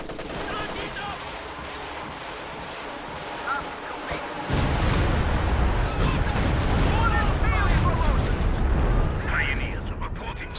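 A Stuka dive-bomber barrage in Company of Heroes 2 begins partway through with a sudden burst of loud, overlapping explosions and crackling blasts. They continue steadily under a commentator's voice.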